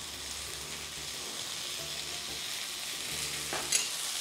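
Cluster beans frying in oil in a pan, a steady close sizzle with soft stirring scrapes and one brief louder clink near the end.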